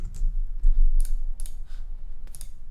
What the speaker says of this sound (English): we'll just go ahead and type in